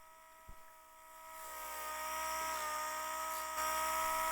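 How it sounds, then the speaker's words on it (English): Orbital sanding disc grinding the metal label on a CR125 motorcycle part, a high thin whine that rises in pitch and loudness as it bites, with a few small clicks, close and without talk. "I'm quickly finding out with this orbital sanding disc that it's way too aggressive."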